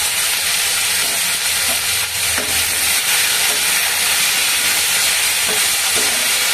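Chopped tomato, cabbage, papaya and green chilli fry in a pan with a loud, continuous sizzle and occasional stirring scrapes, close up and without talking.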